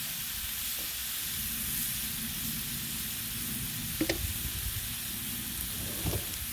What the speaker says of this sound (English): there's a little bit of oil burning off the griddle